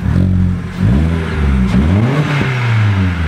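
A Vauxhall Corsa engine revs hard through a loud aftermarket exhaust, pitch rising and falling in repeated throaty bursts, close by.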